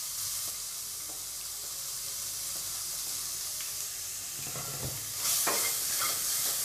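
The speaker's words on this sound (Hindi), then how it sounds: "इसमें डाल देंगे प्याज अब," Sliced onions dropped into hot oil already holding cumin seeds and asafoetida, a steady close sizzle with a few clinks from the spoon, swelling into a louder, hissier fry near the end.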